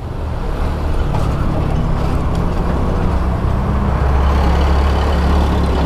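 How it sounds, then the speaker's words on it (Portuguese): A truck cutting in on the road rumbles loud and close in heavy traffic, a steady low engine drone with road noise that builds slightly toward the end. "Caminhão fechando de leves aqui"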